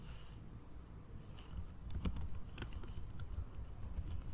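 Rapid, uneven keystrokes clatter on a computer keyboard as code is typed, with faint, close clicks in irregular bursts over a quiet background.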